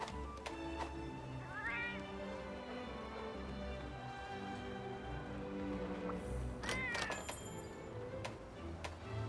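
A Palico cat companion in Monster Hunter Rise Sunbreak gives a few soft meows over a steady game ambience and background music, faint and sparse.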